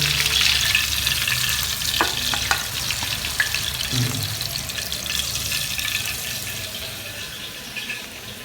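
A large tilapia fries in oil in a wok, a busy crackling sizzle that starts strong and gradually eases, broken by a few sharp metallic scrapes and taps as the fish is worked in the pan.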